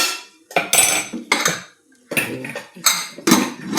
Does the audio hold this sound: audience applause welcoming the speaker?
no